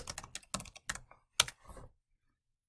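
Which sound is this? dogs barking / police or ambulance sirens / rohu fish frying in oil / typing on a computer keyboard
typing on a computer keyboard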